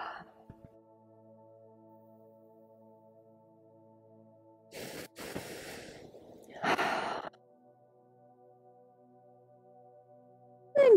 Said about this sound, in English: Take a few more cleansing breaths.